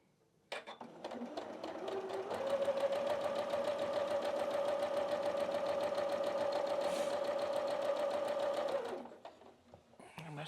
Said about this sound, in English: we're just gonna sew them just one on top of the other,